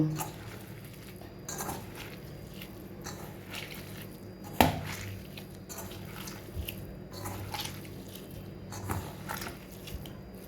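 Boiled banana flower is mashed by hand for a coconut and chickpea mochar ghonto, making soft, irregular squishing and light tapping sounds, quiet and close, with one sharper knock partway through.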